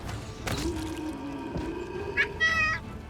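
A cat meows in the video game Wrath of the Righteous: a couple of short, tonal mews near the end, fairly close, over a soft game background with a dull thump earlier.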